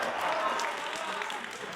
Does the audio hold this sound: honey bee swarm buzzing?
no